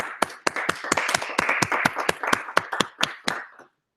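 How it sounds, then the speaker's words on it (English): A small group at a Chicago deep learning workshop claps briefly: a dozen or so distinct, close hand claps in an uneven rhythm, thinning out and stopping after a few seconds. "So thanks so much, Victor. Round of applause."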